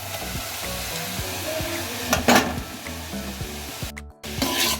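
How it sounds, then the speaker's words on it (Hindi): Poha being added to a pan with onions and stir-fried, a continuous sizzle with rhythmic scraping stirs of a spatula, a brief pause, then frying resumes. "अब पोहा डालेंगे"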